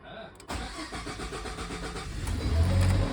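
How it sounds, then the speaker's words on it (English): A car engine cranks and catches after a brief quiet moment, settling into a steady, loud running rumble that swells toward the end, with a voice mixed in. "Oh, it started without the fuel thing on. Well, it started, and the compression sounded really good."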